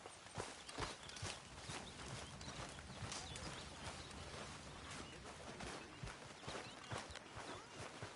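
Horse hooves clip-clop on the ground in the video game Red Dead Redemption 2. The steady walking rhythm is close and clear across the whole stretch, over a soft ambient background.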